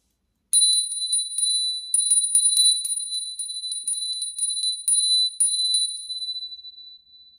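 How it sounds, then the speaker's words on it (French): A small ritual bell rings repeatedly in bright, clear strikes, some quick and clustered, others spaced, each tone lingering briefly and decaying toward the end; heard alone without talk. "Donc on va faire teinter un petit peu la cloche."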